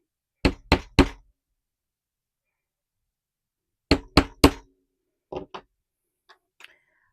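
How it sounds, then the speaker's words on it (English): A mallet strikes a drive punch through leather laid on a punching board, in two bursts of three sharp, close knocks, followed by a few lighter taps. "I'm using my mallet to do the hammering"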